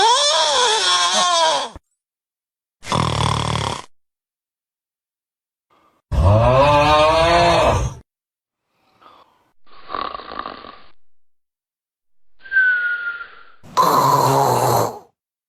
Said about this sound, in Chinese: 半夜对象打鼾在旁边搞装修怎么办？